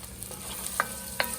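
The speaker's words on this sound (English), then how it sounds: "So our garlic is now frying off." Minced garlic sizzling in a pan over beefy residue for goulash, a faint steady frying hiss with two brief louder crackles, nothing else audible.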